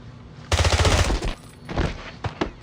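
A burst of rapid machine gun fire in a video game, loud and close, rattling for about a second, then a shorter follow-up burst and a couple of single shots.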